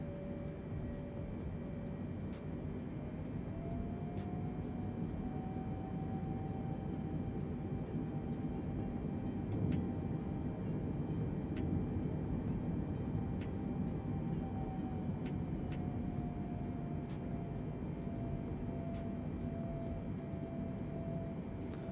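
A Boeing 747 in a flight simulator flies under manual control, its engines a steady, moderately quiet drone and rumble with a slowly shifting tone and a few faint ticks.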